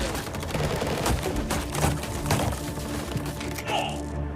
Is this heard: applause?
no